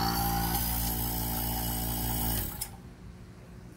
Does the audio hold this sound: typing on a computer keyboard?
no